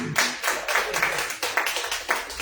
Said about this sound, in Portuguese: Aplausos no nome do Senhor Jesus.